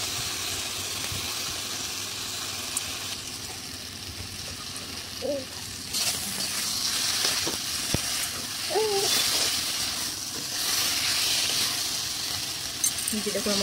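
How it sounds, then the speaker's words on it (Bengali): Ground spice paste (masala) fries in a pan with a steady, loud sizzle and occasional stirring clatter, and a voice speaks briefly over it. "এটাকে আমি এখন ভালো করে ভেজে নেব মশলাটাকে"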